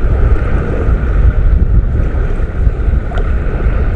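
Rough sea churns against an island shore, a loud, constant roar of wash and surge mixed with buffeting wind noise on the microphone, with no talking.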